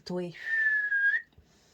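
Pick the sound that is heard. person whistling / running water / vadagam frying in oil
person whistling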